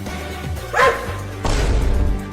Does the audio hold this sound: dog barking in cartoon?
yes